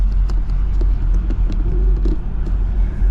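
Car driving over an old Soviet airbase runway in Czech forests: a loud, steady low rumble from close inside, with scattered creaks and light thumps over the rough surface, no speech.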